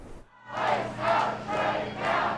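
Protesters outside Terminal 1 at MSP Airport chant in unison in the cold, loud rhythmic group shouts repeating about every half second after a brief quiet start.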